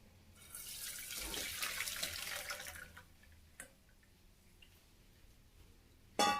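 Water poured off boiled raw mango, a broad splashing rush for about two and a half seconds that tapers into faint trickles and drips, then a sudden clatter at the end; close by, no talking.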